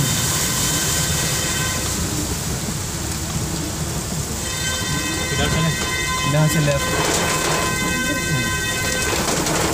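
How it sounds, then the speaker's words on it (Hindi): Heavy rain in Lucknow drums steadily on a car while driving through flooded streets in traffic, a loud constant roar with engine hum and someone speaking briefly over it. "लखनऊ में पहली बार इतनी बारिश हुई है, इतनी बारिश कभी भी नहीं हुई है।"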